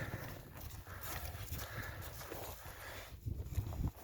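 A draft mare's hooves clop slowly and unevenly on the ground nearby, a few steps at a walking pace, fairly quiet with rustling around them.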